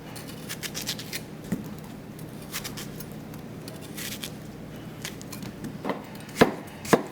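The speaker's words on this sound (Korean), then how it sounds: "이렇게 잘게 썰어서 믹서기에다 갈 거예요" A knife finely chops peeled, cored apple and pear on a cutting board: light, quick taps under a soft room hum, ending in two louder, sharper strikes, with no talk.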